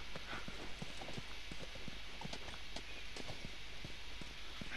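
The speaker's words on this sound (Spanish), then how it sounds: "Ven aquí, caballito." Steady clip-clop of horse hooves walking in The Last of Us video game, a continuous rhythmic patter of hoofbeats over quiet ambient game sound with no talk.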